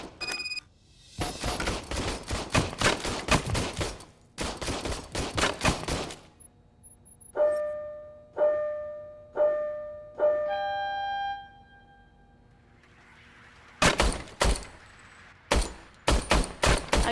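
In Robocop: Rogue City, Robocop test-fires his service weapon in several rapid bursts of loud automatic fire, with electronic beeping tones in a pause between them and more bursts at the end.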